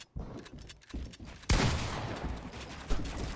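Gunfire in Fortnite: a burst of loud shots cracks in at about a second and a half, followed by continued rapid firing at close range, with quieter game sounds before.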